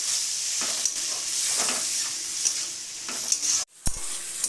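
Ash gourd pieces stirred and fried with spices in a pan, a close steady sizzling hiss with scraping stir strokes and a sharp clatter near the end.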